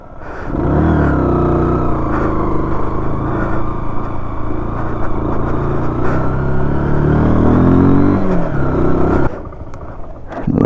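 Motorcycle engines run steadily and loud for several seconds on off-road tracks near Ghandruk, Nepal, with rising and falling revs while climbing uphill, then ease off near the end.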